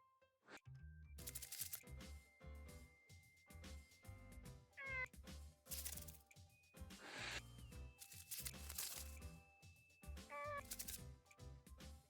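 A cat meows a few times in the video game Nights of Azure, short rising cries over busy, loud game music with percussive hits.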